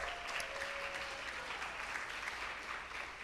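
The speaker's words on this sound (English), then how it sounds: "Let's give them a big round of applause." An audience gives a round of applause, a continuous, even wash of clapping holding steady for a few seconds.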